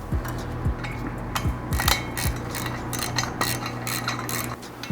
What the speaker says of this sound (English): I'm gonna put the nuts on and tighten it